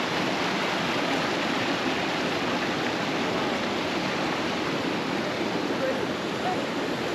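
Cold, clear water flowing near caves in northern Kenya, a steady, loud rushing wash like a stream or small waterfall that runs without a break.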